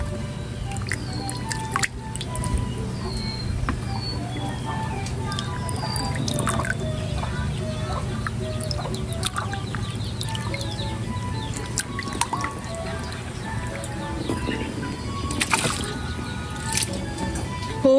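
Abakuli shellfish get washed by hand in water, with steady wet squishing, sloshing and dripping as the shells are rubbed and stirred, close up, with faint birds in the background.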